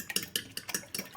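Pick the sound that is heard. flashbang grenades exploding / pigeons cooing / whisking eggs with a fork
whisking eggs with a fork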